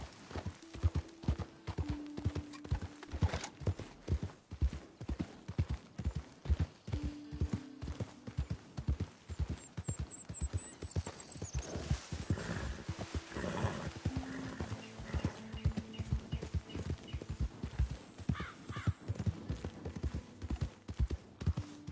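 A horse gallops in the video game Red Dead Redemption 2, with rapid rhythmic hoofbeats sounding continuously and close and whinnies breaking through now and then.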